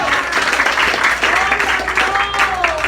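Church congregation applauding loudly and steadily throughout, a dense wash of clapping with voices and cheers mixed in and a sung or shouted tone rising over it near the end.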